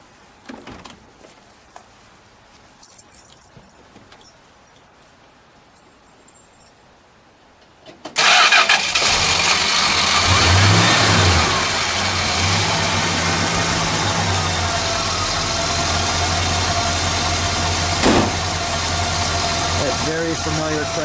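After quiet rustling, the Chrysler V8 engine of a 1967 Dodge Monaco 500 cranks and roars to life loudly, then settles into a rumbling idle with a few revs.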